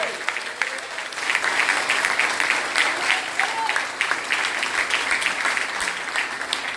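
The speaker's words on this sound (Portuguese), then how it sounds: "palmas ao Senhor" Church congregation applauding in praise during a Portuguese-language sermon, steady dense clapping throughout, fairly close and loud, with voices mixed in.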